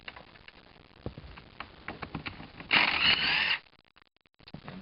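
A ratchet loosens the 14mm bolts holding a car's passenger seat, giving a run of close, quick mechanical clicks and a burst of louder continuous ratcheting, then quiet.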